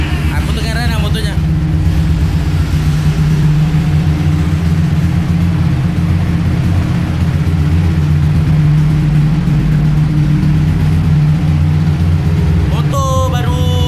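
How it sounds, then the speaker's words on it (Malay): An upgraded Yamaha Y15 motorcycle engine with an anti-vibration crankshaft running steadily, a loud continuous close drone with a constant hum, and someone talking briefly over it near the start and end. "Aku tengah run lah motornya."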